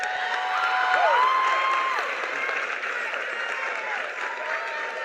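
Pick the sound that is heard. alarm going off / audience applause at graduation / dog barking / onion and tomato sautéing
audience applause at graduation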